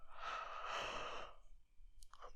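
A deep, long yawn drawn out with breathy air during a relaxation exercise, close and quiet, fading after about a second and a half with a faint sound after.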